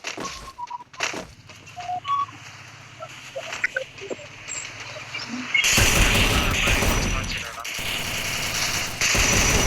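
Gunfire rings out in a battle royale video game. Scattered sharp shots come first, then a dense, sustained burst of rapid fire, while a player talks over the action.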